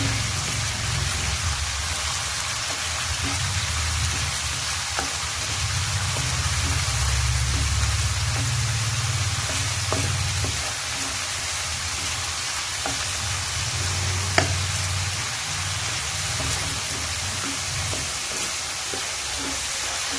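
Onion and bird's eye chili sizzle in hot oil with a cooked spice paste for Javanese fried noodles, a constant crackling fry with occasional stirring clicks and scrapes throughout.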